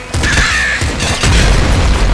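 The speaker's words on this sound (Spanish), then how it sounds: "Una explosión de estas nos mata" A loud, booming explosion in the game Nuclear Throne with a rumbling low end and a bright crackle, followed by continued heavy rumble.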